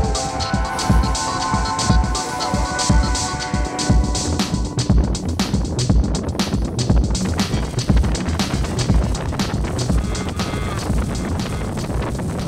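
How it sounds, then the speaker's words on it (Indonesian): A twin-engine speedboat runs across open sea near the Karimata islands, with a steady, dense roar of engines, rushing water and wind buffeting the microphone that holds throughout without pause. "Selama 2 jam lebih menelusuri lautan dengan speedboat bertenaga 2 mesin ini"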